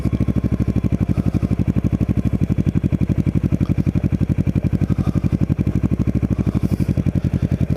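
A motorcycle ridden over rough terrain churns out a loud, steady engine thrum with a fast, even pulsing beat throughout, close up and with no break.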